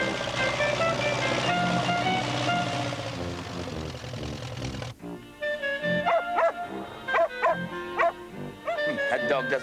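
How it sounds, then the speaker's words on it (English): A dog barks and yips in short, sharp, repeated bursts close by, following a stretch of loud background noise, with people talking in between. "That dog doesn't seem to like me."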